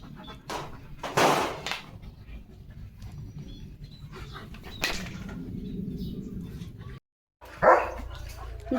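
A dog barks in a few loud, sharp bursts spaced seconds apart, close by, at the sound of a passing village religious procession, with a quieter murmur of background noise between them.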